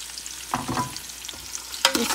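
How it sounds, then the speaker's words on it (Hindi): Onion and garlic fry in a pan with a soft, steady sizzle, broken by a few sharp clinks and scrapes from stirring, close up and fairly quiet. "हमें 3 से 4 मिनट के लिए आप इसको थोड़ा सा फ्राई कर लें प्याज को"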